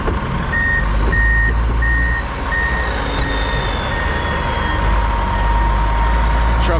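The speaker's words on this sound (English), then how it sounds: "Truck sound good." Mack dump truck hauling a load of snow, its engine rumbling steadily while a high reversing alarm beeps in a regular repeating pattern, loud and close throughout.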